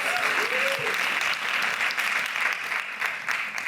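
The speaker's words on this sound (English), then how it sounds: "Round of applause, please." Steady audience applause at a music-industry panel discussion, a dense continuous wash of clapping filling the room at even loudness throughout, with no speech over it.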